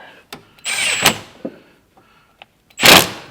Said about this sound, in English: I'm going to take the bolt off of there, off the front, and put it in the back.